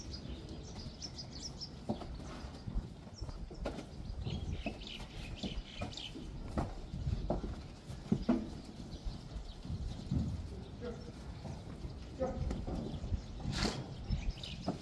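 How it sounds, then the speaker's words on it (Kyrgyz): A herd of mares with young foals moves about, their hooves clip-clopping faintly and irregularly at a distance. Birds chirp scattered through the quiet outdoor background. "Чоң бээлер келди."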